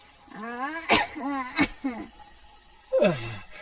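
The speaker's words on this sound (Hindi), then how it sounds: "दोनों धुएं के कारण खांसने लगते हैं।" Two elderly cartoon characters in a Hindi animated story cough from smoke, producing a few exaggerated, voiced, drawn-out coughs and groans with short gaps between them.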